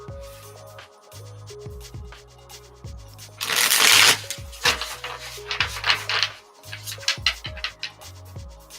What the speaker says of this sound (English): a nice shuffle real quick.